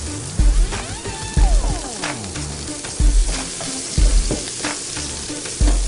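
Sea scallops sear hard in hot oil in a pan on a restaurant-style stove, a steady loud sizzle broken by several deep thumps and clatters of pan handling, with no talk.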